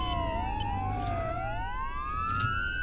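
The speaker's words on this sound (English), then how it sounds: "Oh my gosh, okay. The sirens." Police car siren in the Roblox game Jailbreak wails steadily, its pitch sweeping up and down in overlapping tones over a dense background hum, continuous and fairly loud without talk.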